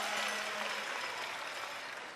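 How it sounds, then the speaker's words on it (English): Spectators at a world men's curling championship bronze medal game between Korea and Scotland clap in a steady, moderately distant wash of applause, sustained evenly from start to finish. "To the applause of the crowd"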